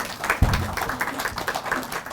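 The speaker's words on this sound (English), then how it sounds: "Please give him a big round of applause." Applause from a crowd at a national skills launch attended by the Prime Minister, a fairly dense patter of clapping with a single low thump early on.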